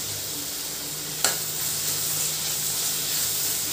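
Onion, ginger and garlic sauté in a pan for paneer bhurji, making a steady, close sizzling hiss. A single clank is heard as the garlic and ginger go in, and the frying keeps crackling evenly afterward.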